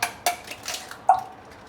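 Barn-laid eggs being cracked over a kitchen sink, with the shells dropped in: a few sharp, close clicks and taps against a hard surface, set apart by short pauses.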